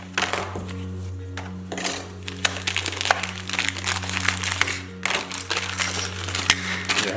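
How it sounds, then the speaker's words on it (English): A package being cut open, with close crinkling plastic and sharp snipping clicks in irregular bursts over a constant low electrical hum. "All right, so then you cut this open."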